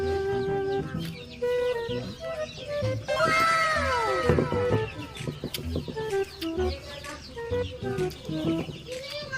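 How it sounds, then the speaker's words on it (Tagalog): Chickens cluck and squawk repeatedly nearby, with a rooster-like call rising in the middle and other animal noises mixed in. "mga manok lang yung maingay"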